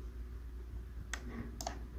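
Two quick, faint clicks sound about half a second apart over a low background hum, like a computer mouse being pressed.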